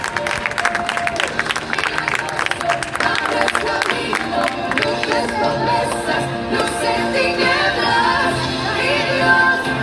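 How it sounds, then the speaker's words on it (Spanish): A church congregation claps loudly for the Lord at the close of a Spanish-language service, with cheers and shouts mixed into the applause, under a sustained musical tone. "Démosle un fuerte aplauso al Señor."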